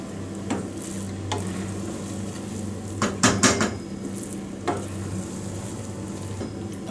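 Rice being stirred in a flat tawa pan for Bombay-style tawa pulao, with repeated metal spatula scrapes and clinks over a soft steady sizzle, a louder cluster of clatters midway.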